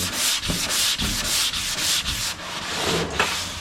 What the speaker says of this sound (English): let the block do the sanding